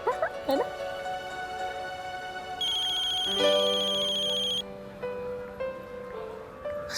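A phone ringtone plays a bright, repeating electronic melody, loud and close, with a few faint background noises and murmurs around it.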